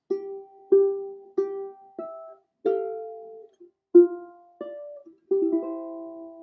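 A ukulele chord turnaround, nine or so clean strums or plucked chords in a steady, unhurried rhythm, each ringing briefly before the next, close and clear with no voices.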